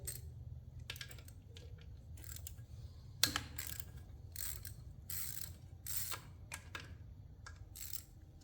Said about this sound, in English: Now you're going to take a 12 millimeter and undo your foot peg